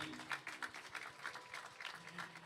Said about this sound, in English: Let's give Dahlia a round of applause, everybody.